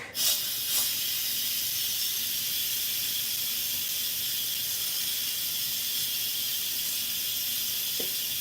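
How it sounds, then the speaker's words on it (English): Steam hisses steadily from the release valve of a pressure cooker used to make meatloaf, a loud, even rush that starts abruptly and keeps going for several seconds, with a faint clunk near the end. "Turning it a little bit just to direct the steam up that way."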